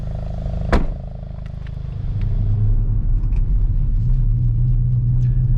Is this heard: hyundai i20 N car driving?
yes